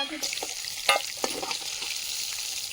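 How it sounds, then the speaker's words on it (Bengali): Fish sizzles and spits in hot oil in a pan, a close, crackling fry broken by a few sharper pops and a stir. "মাছটা ভাজা হয়ে"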